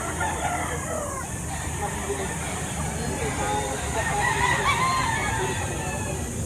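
Chickens and roosters cluck and crow at a poultry market in Lipa, Batangas, faint and blended into a continuous crowd murmur with people talking nearby.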